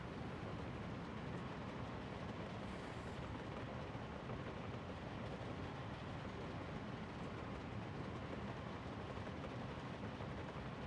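A train running on the main line in the game Workers & Resources: Soviet Republic makes a dense, steady rumble and rush that goes on without a break and carries no voices.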